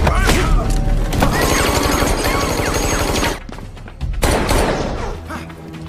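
Shootout gunfire in a film scene after a bodyguard grabs a police weapon, loud rapid bursts over a dense soundtrack, briefly dropping then resuming.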